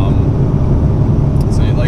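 A small-block Ford 5.0 Foxbody Mustang with a Comp Cam XE266HR camshaft accelerates hard from about 2,500 to 6,000 RPM, a loud, steady, dense engine roar filling the whole stretch close up.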